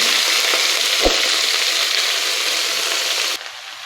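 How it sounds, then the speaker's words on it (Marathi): Chopped green chillies hit garlic frying in a pan for a fenugreek (methi) bhaji, bringing a loud, dense, steady sizzle close by with one brief soft knock partway through. "आता आपण ही चिरून घेतलेली मिरची त्यामध्ये टाकून घेऊया"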